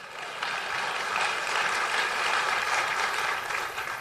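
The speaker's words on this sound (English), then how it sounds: "if you can clap for that, that's all right" An audience claps at a political talk about Scott Walker as a 2016 candidate, a dense, steady wash of applause that swells slightly and holds throughout.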